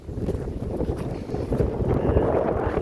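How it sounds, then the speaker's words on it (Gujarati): Strong wind buffets the microphone in loud, gusty roars that build over a few seconds, with no voices. "જો ફૂલ પવન વહીધો છે"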